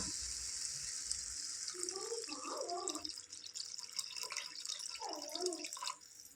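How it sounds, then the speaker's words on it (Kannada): Water runs and trickles steadily into a pan for cooking drumsticks, close by, with some splashing and dripping throughout and no talk. "ಬೇಯಿಸ್ಕೊಳ್ಳೋದಕ್ಕೆ ಎಷ್ಟು ನೀರು ಬೇಕಲ್ಲ ಅಷ್ಟು ನೀರನ್ನು ಹಾಕ್ಕೊಳ್ಳೋಣ"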